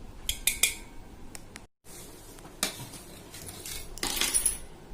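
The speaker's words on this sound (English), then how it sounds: "finally chopping the cheese for our delicious pizza base" Cheese being chopped with a knife on a board for a homemade pizza base: a run of sharp, close clinks and taps, clustered in short bursts with a brief pause partway, and no talking.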